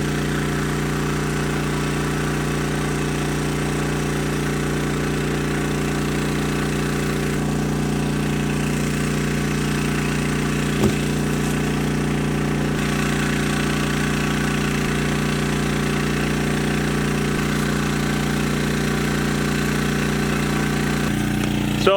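A small portable generator engine runs steadily at idle near a flooded racetrack, a constant mid-pitched drone with a strong hum that holds unchanged throughout, with one brief click partway through.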